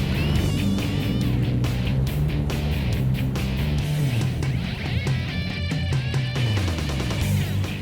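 A steady, loud engine drone on a toy run through inner Sydney back streets, with a dense rumble of several bikes close by and rising and falling revs throughout.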